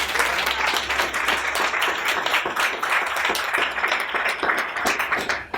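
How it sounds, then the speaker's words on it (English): An audience at a Lambda LitFest event on queer voices of color applauds in a dense, steady wash of clapping that stays loud and even for several seconds. "let's give them a round of applause"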